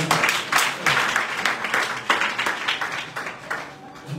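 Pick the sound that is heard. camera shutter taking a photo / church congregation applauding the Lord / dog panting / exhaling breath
church congregation applauding the Lord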